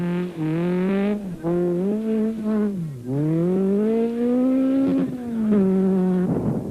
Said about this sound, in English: as Jose Ferreira and Miguel da Costa approached at speed from the other end of the junction